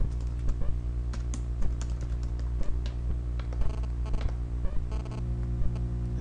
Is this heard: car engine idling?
no